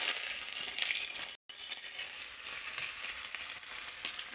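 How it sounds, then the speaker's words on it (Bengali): Ginger-chili paste and cumin powder sizzle in hot fish oil for a Bengali vegetable dish, giving a loud, steady, close-up frying hiss that cuts out for a moment partway through. "তেলটা ভাজা হয়ে গেছে, ওর মধ্যে আদা লঙ্কা বাটা,"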